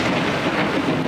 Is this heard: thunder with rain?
yes